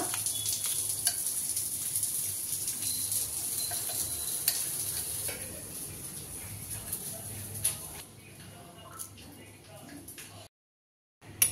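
Mustard seed tempering sizzles and crackles steadily in oil for several seconds, with a few sharper pops and clinks, then the hiss fades to quiet near the end.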